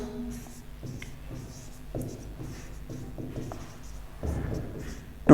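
Pen or stylus strokes on a presentation slide during a civil engineering estimation lecture, a series of short soft scratches in quick bursts, fairly close, ending in a sudden louder knock.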